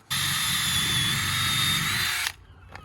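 A power drill drives screws into a plywood transom in one loud, steady whine that lasts about two seconds, then cuts off sharply into quiet room noise.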